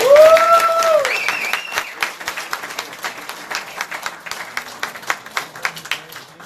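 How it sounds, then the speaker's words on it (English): Applause from a launch event audience, starting with a burst of clapping and cheering, then thinning into scattered individual claps. "let's give a big applause, you guys"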